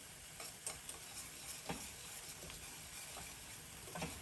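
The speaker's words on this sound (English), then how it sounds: "make sure that you're still stirring your sauce" Enchilada sauce with melting cream cheese is stirred in a pan on a cattle-drive cookout, a steady bubbling sizzle under scattered scraping strokes of the spoon, close and moderately loud with no talk.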